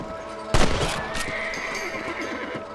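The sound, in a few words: horse whinnying in the video game Red Dead Redemption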